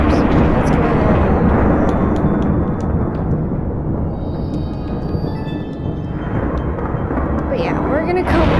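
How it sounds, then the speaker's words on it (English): Deep rumbling thunder rolls through a spooky video game realm, a continuous low roar with crackling rises, heard under a person talking throughout. "You can hear the thunder."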